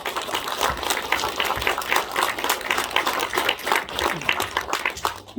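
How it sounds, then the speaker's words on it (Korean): An audience at a civic human rights award ceremony claps in a thick, sustained round of applause, with even, overlapping hand claps and no speech over it. "그런 뜻에서 오동균 총재께 우리 경례의 큰 박수를 보내주시기 바랍니다"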